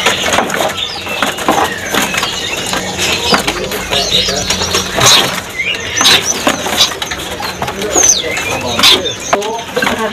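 Many bimoli birds call and coo at once at Pramuka bird market, a busy, noisy setting, with sharp high chirps cutting through a dense chatter of calls.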